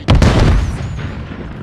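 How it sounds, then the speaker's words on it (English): A grenade explodes in Call of Duty MW3, a loud close boom with a sharp burst that rolls off into a fading rumble and debris noise. "grenade out!"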